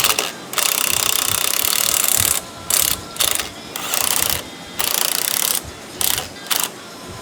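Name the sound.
ratchet tightening strut top nuts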